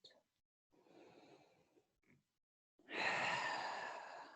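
Slow, deep yoga breathing sounds close and soft: a couple of faint breaths, then a long, loud airy exhale that tapers off gradually. Nothing else is heard over it.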